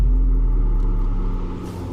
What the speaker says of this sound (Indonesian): kayak ada suara mobil